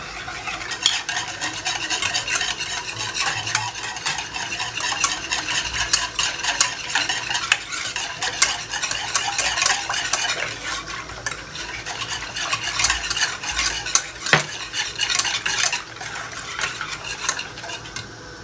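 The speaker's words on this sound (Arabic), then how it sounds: "غادي نخلطو بحال هكا، عاد نديرو من فوق البوطه باش هذاك الفورس ما يتجمعش" A spoon scrapes and stirs thickening béchamel sauce in a pot on a gas stove, a continuous run of close, rhythmic scraping strokes with no talking.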